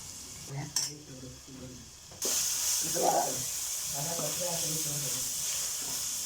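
Onions sautéing in a pan for a duck curry, a steady sizzle that thickens after a couple of seconds and carries on under people talking in Malayalam, with occasional stirring clinks.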